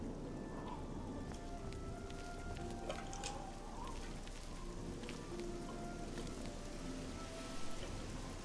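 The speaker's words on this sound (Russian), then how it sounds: "Блин, опять дождь пошел." Steady rain patters down in the fantasy game Oblivion, a soft continuous wash of drops on surfaces with scattered faint game sounds over it and no talking.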